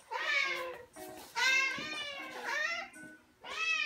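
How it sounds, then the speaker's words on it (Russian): Several cats meow loudly and close by in a vet setting, one injured cat among them, with four distinct overlapping meows in quick succession and no talk between. "Ой, все начали мяукать сразу."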